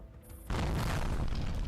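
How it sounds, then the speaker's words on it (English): A sudden loud, dense explosion bursts in from the Girls' Frontline video game, a sustained rumbling blast that holds at full strength after a quieter opening. "Gray's frown deepens as the sounds of explosions draws nearer."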